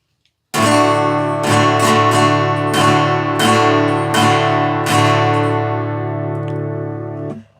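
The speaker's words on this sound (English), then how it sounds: "And then if you go to a thicker pick, it can sound perhaps even better." Acoustic guitar tuned to drop D and played with a thicker pick, a string of firm strummed chords with a heavy low end, ringing close and loud before fading out, no talking.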